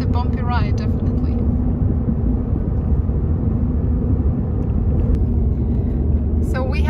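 Car driving along a bumpy, repeatedly patched road between Turkestan and Orsk, a steady heavy low rumble of tyres and engine filling the cabin throughout, with a voice talking over it at the start and end.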